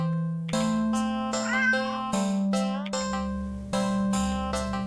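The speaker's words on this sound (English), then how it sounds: "Then again, it is a cat." A standard black cat meows several times in close succession, clear and near, each cry rising and falling over a steady low background hum, with no talking.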